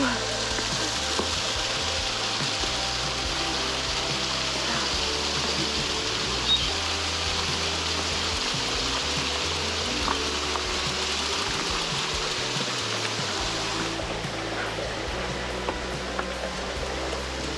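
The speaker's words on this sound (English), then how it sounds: "Oh, that's cool. The waterfall." A waterfall tumbling over rocks on a gravel bike ride, heard as a steady, broad rushing wash that runs unbroken throughout, fairly close and constant.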